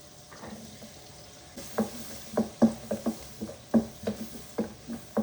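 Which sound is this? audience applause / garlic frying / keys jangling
garlic frying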